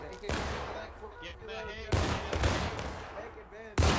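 Musket fire crackles in a War of Rights Civil War battle game, with sharp loud volleys in three bursts and scattered shots rolling between them, close and harsh.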